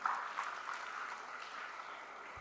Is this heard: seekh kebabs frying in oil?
no